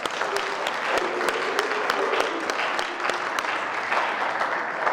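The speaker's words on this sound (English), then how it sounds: "Clap one more time for the bros, man." A crowd at a fraternity leadership conference claps steadily, a dense sustained round of applause with sharp individual claps standing out, nearby and fairly loud throughout.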